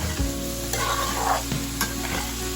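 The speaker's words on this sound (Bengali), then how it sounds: "সবকিছু খুব ভালোভাবে মিশিয়ে নিচ্ছি" Potatoes, green chili and pointed gourd seeds sizzle steadily in a hot pan while being stirred, with scraping strokes of the spoon and a constant frying hiss throughout; no one speaks.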